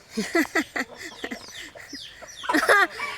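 Chickens clucking while being fed: a run of short, close clucks and squawks in quick bursts, denser and louder near the end, with a little talk mixed in.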